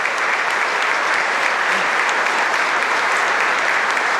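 A crowd gives a prolonged standing ovation at a retirement celebration for a baseball coach's wife as she receives flowers, the dense, steady applause filling the space at an even level throughout with no talk.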